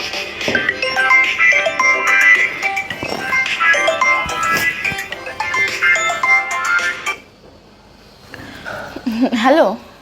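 A phone rings during an outgoing call, a loud melodic ringtone playing for several seconds before cutting off, followed by a brief fainter tonal snatch.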